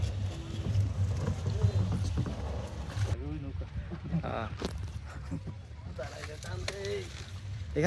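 A boat moves across the calm water of a beel lake at Nishindahati, Kaliakoir, Gazipur, with faint water and wind noise running beneath people chatting nearby.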